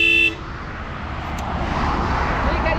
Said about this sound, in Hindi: थोड़ा सा मैंने इसका हॉर्न भी अपग्रेड कराया था, क्योंकि रॉयल एनफील्ड की बाइक पे थोड़ा पतला हॉर्न समझ में नहीं आता है।